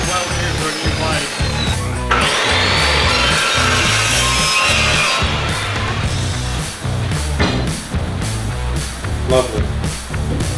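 A power saw blade cuts through metal while a trailer is being upgraded, giving a loud, continuous harsh grinding rasp close by that holds steady for about ten seconds.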